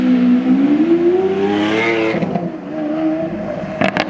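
A Ferrari SF90 pulls up on a Beverly Hills street. Its loud, nearby engine note rises and then settles as the car slows, with a brief sharp burst at the end and no voices.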